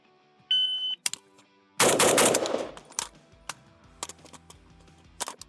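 A modded AK rifle fires loud, sharp reports outdoors, with a short burst followed by several single shots spaced irregularly, each with a brief echoing tail.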